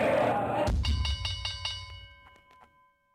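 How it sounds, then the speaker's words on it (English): Stock market opening bell rings with a sharp strike that follows a burst of noise, then sustains several ringing tones that decay over a few seconds to near silence. "Let's go to opening bell."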